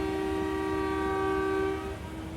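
A train standing at Kala Akhtar station on the Narowal section during a two-minute stop, a loud steady horn-like tone holding for nearly two seconds before cutting off and leaving a low rumble.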